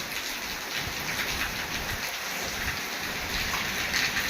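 Steady heavy rain pours down in Porbandar with strong wind, a dense continuous hiss of drops striking surfaces, with no voices throughout.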